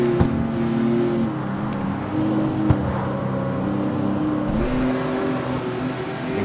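A car engine revving in the CarX Street racing game, the car fitted with longer transmission gearing, drones steadily with shifting pitch and a noticeable change of tone near the end, with no talk.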